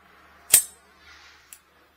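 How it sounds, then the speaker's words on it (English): Empty brass cartridge cases are knocked out of a revolver's cylinder: one sharp, bright metallic clack, then a soft rustle and two small faint clicks, all close and with no talking. "just chuck out your empty brass cartridges"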